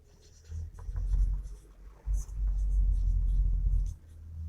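A pen scratches across paper while a math problem on relations and functions is worked out, the strokes steady under a low rumbling background with a brief pause midway.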